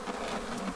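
Honey bees in a struggling winter hive drone with a steady, soft buzz at close range, faint and continuous with no voices.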